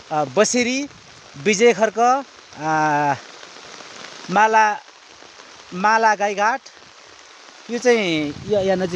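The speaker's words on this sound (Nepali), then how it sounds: "अनि यसरी पानी पर्दैछ।" Steady rain patters down at Yalambar Park in Khotang, Nepal, a soft continuous hiss that fills the pauses while someone talks almost throughout.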